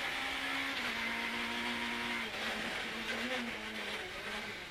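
A rally car on a stage of the Rallye du Limousin 2014 drones at high engine revs, holding a steady pitch with brief dips and rises as it shifts. The sound is heard from inside the car, with faint noise underneath.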